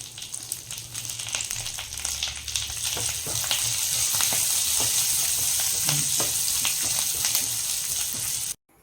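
Cumin seeds, green chillies and curry leaves crackle and sizzle in hot fat, a steady close frying hiss with scattered pops and a little stirring.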